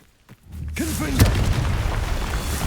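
A Confringo blasting spell in Hogwarts Legacy fires with a swishing whoosh and then a deep, close boom that settles into a sustained rumble.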